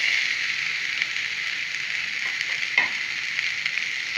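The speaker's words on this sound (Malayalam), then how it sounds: "ലേശം പാനിലേക്ക് ലേശം വെളിച്ചെണ്ണ ഒഴിച്ചു കൊടുത്ത് അതിലേക്ക് നമുക്ക് അരിഞ്ഞു വെച്ച ക്യാരറ്റും പയറും ഇട്ട് കൊടുക്കാം" Chopped carrot and green beans fry in coconut oil in a pan, giving a steady, close sizzle with faint crackles and a few light pops, with no talking.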